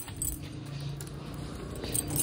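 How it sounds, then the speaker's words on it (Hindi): Keys jangling as people lock up a shop and pull the shutter down, a soft continuous metallic rattle heard close against steady background noise. "चाबियां ले लें लोग"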